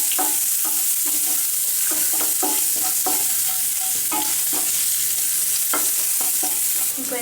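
Curry leaves, garlic and green chillies frying in hot oil for a fish podimas, a steady loud sizzle broken by repeated scraping stirs of a spoon against the pan.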